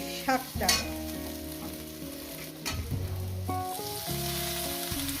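Fenugreek greens hit a hot pan for a Bengali methi shak chorchori, with a clatter near the start and a steady sizzle and stirring beneath prominent background music.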